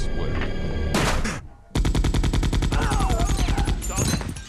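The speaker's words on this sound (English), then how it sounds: "So the soldier starts shooting." Soldier firing in the video game Resident Evil 2, loud rapid automatic gunfire in fast even bursts with a brief pause, then a renewed sustained volley backed by music.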